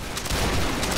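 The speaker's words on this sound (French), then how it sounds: "Allez, tirez tous maintenant une balle." Musket volley in a Napoleonic-style line battle video game, a dense crackling burst of shots rising about a third of the way in and rolling on loudly to the end, with faint talk nearby.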